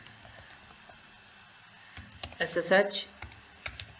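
A quick burst of typing on a computer keyboard enters an SSH command, a brief rapid clatter of keys while someone talks.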